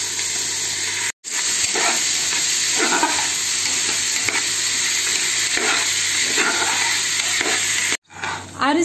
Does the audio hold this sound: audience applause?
no